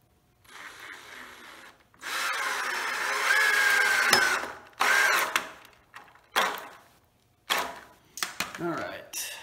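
A power drill drives 2.5 inch screws into the wooden corners of a loft bed frame, several whirring bursts of varying length with pauses between, the motor pitch rising and falling near the listener.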